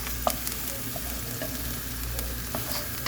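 Onion fries in a little oil for a vegetable soup, a continuous close sizzle with faint pops and a spoon tapping the pan now and then.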